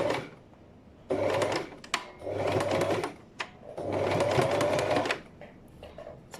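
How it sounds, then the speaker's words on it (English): A sewing machine stitches a zip in steady motor-driven bursts, running in three long stretches separated by short pauses and small clicks, close and clear with no talk. "and then I'm going to start sewing"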